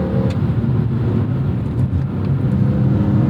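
Inline-six engine of a 2001 BMW M3 E46 running at steady load, a continuous low drone with mild revving as it downshifts, close and loud with no talk.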